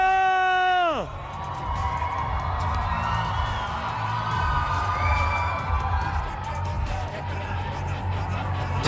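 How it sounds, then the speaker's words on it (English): A crowd at a live fight event roars, cheers and whoops continuously, a dense wall of shouting voices that swells and surges throughout, with a brief electronic tone sweeping down at the start. "Crowd is going ballistic"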